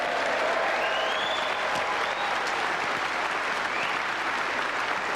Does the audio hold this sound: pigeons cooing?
no